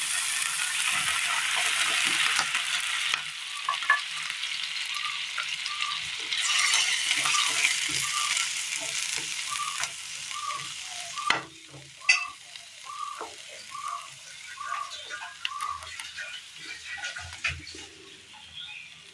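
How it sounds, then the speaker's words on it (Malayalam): Broccoli sizzles loudly in a pan for a Kerala curry, with repeated stirring scrapes and taps. The frying hiss eases partway through, leaving quieter clinks and watery bubbling. "അതേ പാനിലേക്ക് തന്നെ ബ്രൊക്കോളി ഇട്ട് കൊടുക്കാം."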